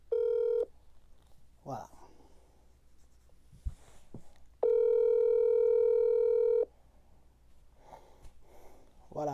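A telephone call to a prophet is placed for a live broadcast, with two loud, steady dial or ringback tones, a short one at the start and a longer one later. Speech and rustling fill the gaps between them.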